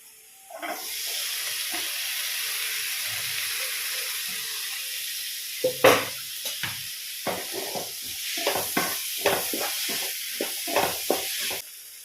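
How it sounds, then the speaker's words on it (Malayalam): Tomatoes dropped into a hot frying pan on a home stove, a loud steady sizzle and hiss followed by scraping stirring strokes in an irregular rhythm, close and alone without talk. "അപ്പൊ ഇനി തക്കാളി ഇട്ട് കൊടുക്കാട്ടാ."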